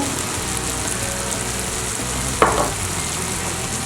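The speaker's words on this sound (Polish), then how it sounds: "Wszystko przesmażamy" Vegetables and garlic fry in a pan with steady, close sizzling throughout, broken by one brief clatter of stirring in the middle; no one speaks.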